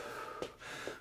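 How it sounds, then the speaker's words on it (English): A single deep breath drawn during a HIIT lower-body strength workout, a sharp close inhale followed by a second softer breath about half a second later. "Deep Deep breath."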